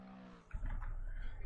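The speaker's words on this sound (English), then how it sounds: "Now the rest of the cars are coming across the line." GT3 race cars crossing the finish line at the Nürburgring in Assetto Corsa Competizione, a quiet lead-in suddenly giving way to a dense, sustained engine roar from about half a second on.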